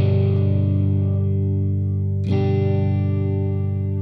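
Electric guitar through a Boss Katana MkII amp with a high-rate chorus effect, sustained shimmering chords ringing loud and steady, one fresh strum near the middle, no voices.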